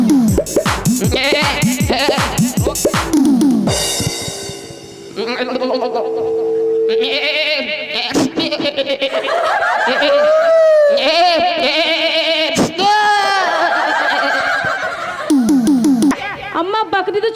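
Goats bleat loudly and repeatedly at close range in a rural village farmyard, with shaky, wavering cries coming in several bursts mixed with chatter and laughter from people nearby.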